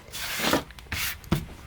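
Pepper grinder crushing coarse peppercorns, several short gritty grinding bursts of rasping crunches close by, with no talking.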